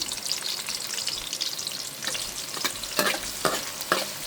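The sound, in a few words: onions frying in a pan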